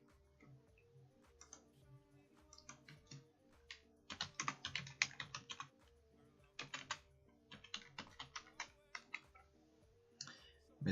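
Words are typed on a computer keyboard into a Word document, irregular bursts of crisp key clicks with short pauses between them, close and fairly quiet.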